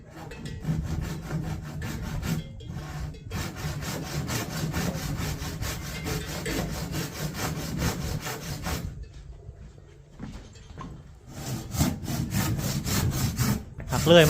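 Rhythmic rasping strokes of a hand saw cutting through wood, continuous and close, with a short pause near the end before sawing resumes.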